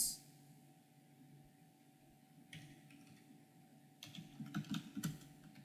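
Typing into a spreadsheet cell on a computer keyboard, a few faint clicks followed by a quick burst of close key taps near the end, over a quiet room hum.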